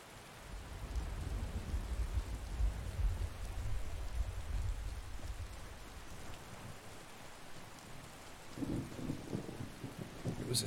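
Thunderstorm in Skyrim at night: heavy rain hissing steadily with deep rolling thunder rumbling low through the first half, then a sharper crack of thunder near the end, no voices.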